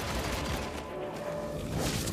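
Revolver fire in the video game Evil West, a quick burst of several shots over a rumbling low game backdrop, fairly quiet and close.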